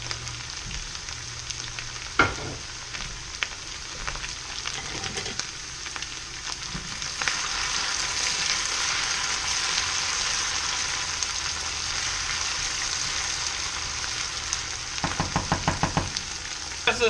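Onions frying in a pan with diced potatoes for riverhash, a steady sizzle that swells louder midway, with occasional utensil knocks and stirring clatter near the start and end.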